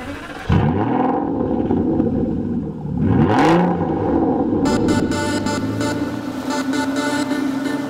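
An Aston Martin Vanquish II Volante's V12 starts with a sharp crank and bark, revs up once more, then settles into a steady, close idle.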